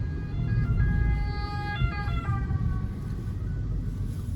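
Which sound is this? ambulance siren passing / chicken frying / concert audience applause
ambulance siren passing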